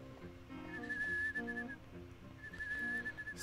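Someone whistles in the Rule of Rose video game, a thin, wavering tune of short held notes over a soft, low backdrop.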